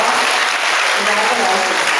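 Loud, dense applause from an audience at a fourth-grade school awards ceremony, a continuous wash of clapping with voices mixed in.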